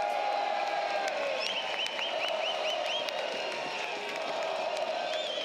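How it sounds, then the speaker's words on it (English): Road crowd at a college baseball game between Mississippi State and Texas A&M, with the bases loaded, producing a steady cheering and clapping roar with whistles over it throughout. "On the road, crowd's getting into it, bases loaded, nobody out."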